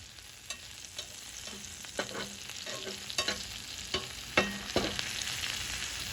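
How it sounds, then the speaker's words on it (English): Scrambled omelet mixture is stirred in butter in a cast iron pan over low heat, with a continuous gentle sizzle and repeated close spatula scrapes and taps at an uneven rhythm. "Go ahead and stir everything in."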